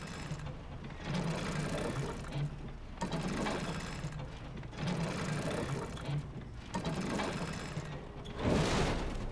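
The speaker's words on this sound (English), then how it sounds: "use the crank." A crank turned in Resident Evil 2 Remake gives off a mechanical ratcheting whir in repeated bursts of about two seconds separated by short pauses.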